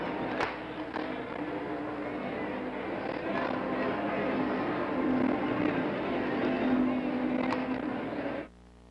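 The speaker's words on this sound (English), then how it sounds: "Too bad the engine knocks, though. Hear that? Knock, knock, knock, knock, knock." A steady, rumbling car engine drone with a knocking fault runs throughout with faint rhythmic clatter, then cuts off abruptly near the end.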